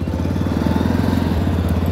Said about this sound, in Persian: یه موتور روشن کنیم و یه تست صدا بگیریم ازش.